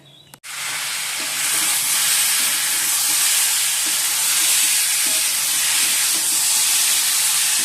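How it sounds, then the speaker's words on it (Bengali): Lentil fritters (dal bora) deep frying in oil, a loud, even, continuous sizzling hiss that starts after a brief clatter and holds steady throughout, with no talking. "এই যে ডালের বড়াগুলো ভেজে নিচ্ছি"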